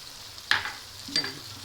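Spices being mixed into potatoes in a frying pan for aloo tamatar salan, with a low sizzle under two brief scraping stirs of the spoon against the pan.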